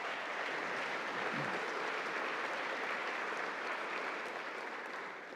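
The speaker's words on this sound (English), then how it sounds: "It is, yes, you may applaud." A college convocation audience applauds at length, a broad, sustained wash of many hands clapping that holds steady before easing slightly toward the end.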